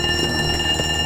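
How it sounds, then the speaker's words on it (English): An alarm in a video game sounds as a continuous, loud electronic tone that holds steady throughout, with no talking. "The alarm went off."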